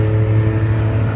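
Ferrari Dino race cars on a racing circuit produce a loud, sustained engine drone with steady low harmonics, a close continuous roar over the whole moment.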